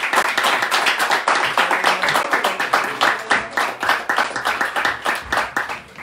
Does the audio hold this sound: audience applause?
yes